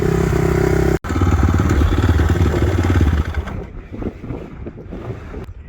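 A re-geared motorcycle on a test ride drones loudly and steadily with heavy wind buffeting the microphone, cuts out for an instant, then roars on before easing off into quieter, choppier engine noise.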